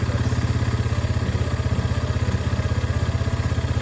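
A warmed-up Yamaha TW200 motorcycle idles close by, its single-cylinder engine thumping in a fast, even, loud pulse that holds steady throughout with no voices.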